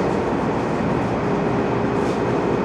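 A Seibu Shinjuku Line 30000 series electric local commuter train, bound from Seibu-Shinjuku to Hon-Kawagoe, runs steadily from inside the car, giving a continuous loud rumble and hum of wheels and motors, with no talk over it.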